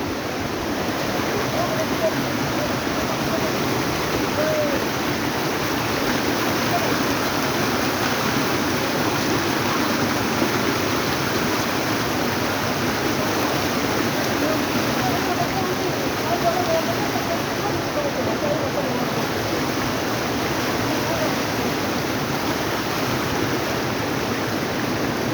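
A small mountain stream trickling down a hillside in Nepal, heard as a steady, continuous rushing and bubbling of water close by, even in level throughout with no talk over it.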